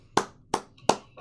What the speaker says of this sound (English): I'll clap with him.